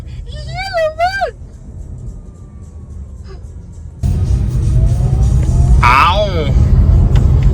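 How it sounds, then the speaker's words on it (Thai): Audi electric car accelerating during a test drive, a low rolling rumble that swells as it gains speed, with people talking over it. "เราจะถ่ายให้ดูนะว่าตอนมันเร่งอะมันจะเร่งเร็วขนาดไหนนะ"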